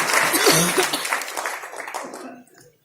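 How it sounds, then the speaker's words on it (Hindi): Audience applause at a motivational network-marketing talk, a dense wash of clapping with a few chuckles that holds loud for about two seconds and then tapers off quickly. "तालियां होनी चाहिए सर के लिए।"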